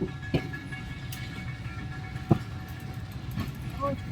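Train pulling out of Phularwan railway station on the route toward Malakwal, heard as a steady low rumble of carriages with a few sharp clanks and thumps, a faint voice in the background.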